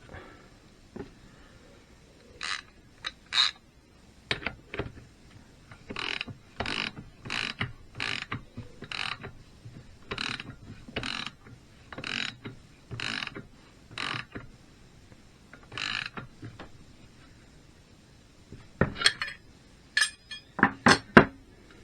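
A ratchet tightens a nut on a BSA Bantam D3 engine's primary side during a rebuild, clicking in short bursts of quick metallic ticks with pauses between strokes, fairly close and clear, with no talk.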